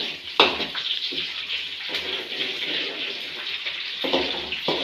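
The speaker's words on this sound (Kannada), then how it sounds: "ಹಾಕಿದ್ದೀನಿ ಈರುಳ್ಳಿ, ಮೆಣಸಿನ್ಕಾಯಿ, ಕರಿಬೇವು ಸೊಪ್ಪು. ಇವಾಗ ಫ್ರೈ ಮಾಡ್ಕೋಬೇಕು." Onions, green chillies and curry leaves fry in a pan, giving a steady close hiss and sizzle with small pops and a couple of sharp clinks.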